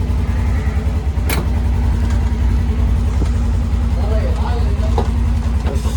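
A Polaris General side-by-side engine, just fitted with a new fuel pump, idles steadily at close range with a constant low rumble and a few brief clicks, and no one speaks.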